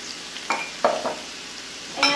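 Shredded carrot and chopped green cabbage hiss and sizzle in a stir-fry pan, with a steady frying crackle broken by a few short stirring scrapes, close and without talking.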